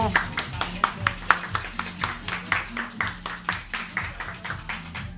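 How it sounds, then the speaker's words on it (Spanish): A small audience claps in a loose, steady stream of sharp hand claps, fairly close, with a voice murmuring underneath at a venue called World Class. "aplaudamos por favor, un aplauso"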